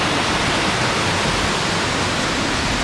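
Loud, continuous roar of rushing water at Bhandardara's reverse waterfall, a dense unbroken wash of noise heard up close with no pauses.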